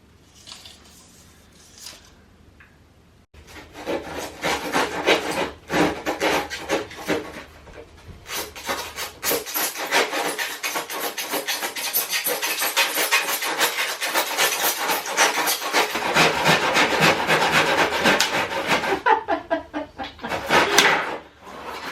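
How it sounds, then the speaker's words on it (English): Sandpaper rubbing on wood while coving a hallway in a new build home, a run of rapid rasping back-and-forth strokes, fairly close, with brief pauses at the start and end. "That's sandpaper, babe."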